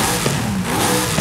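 Car engine revving in the Forza Horizon 5 racing game, a modded Hot Wheels Goliath on its stock engine, a dense steady mid-range roar with slight rises in pitch, loud and continuous throughout with no talking.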